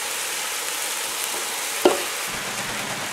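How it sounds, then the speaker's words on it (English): Rice frying in a hot pan for brunch fried rice, a steady close sizzle throughout with one brief clatter as the grains go in. "So start adding the rice on top."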